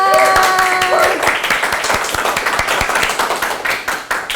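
Audience applause at an audit communication presentation, a dense wash of many hands clapping at close range, steady and loud, tapering slightly toward the end with no speech.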